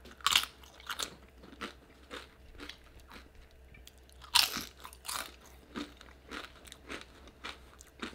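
Crunchy house-made tortilla chips being bitten and chewed up close, with sharp crackling crunches in irregular bursts and no talking.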